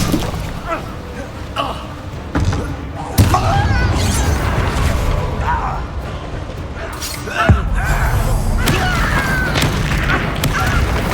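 Incendio fire spell cast in the Hogwarts Legacy video game, heard as loud whooshing fire bursts over continuous game sound, with sharp impacts around the third and seventh seconds.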